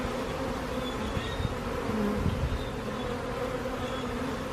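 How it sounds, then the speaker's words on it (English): A large swarm of thousands of bees in a backyard makes a dense, steady buzzing drone close by. It holds at an even level throughout with no voices. "Oh dang, there's even more bees than the other day."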